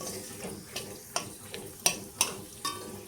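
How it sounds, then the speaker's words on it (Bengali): Papad frying in a pan of oil, a quiet crackling sizzle broken by several sharp pops and clinks of stirring at irregular intervals, close and fairly soft. "ভেজে নেব কয়েকটা পাঁপড়।"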